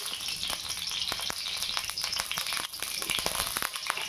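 Steady hiss of hot oil in a wok, with light crackles and a few sharp ticks and clinks throughout, close and continuous.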